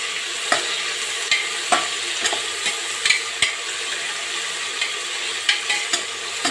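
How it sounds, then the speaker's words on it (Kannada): Tomato frying in a pan for mushroom masala sizzles steadily while a spoon scrapes and taps the pan in a loose, repeated rhythm. "ಇದನ್ನು ಸ್ವಲ್ಪ ಫ್ರೈ ಮಾಡ್ಕೊಳ್ಳೋಣ. ಈಗ ಇದಕ್ಕೆ ಟೊಮೊಟೊ ಹಾಕೋತಾ ಇದ್ದೀನಿ."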